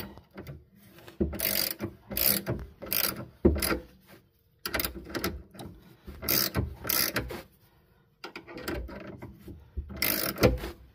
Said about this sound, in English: Let's get the ratchet on the right way. Ratcheting wrench.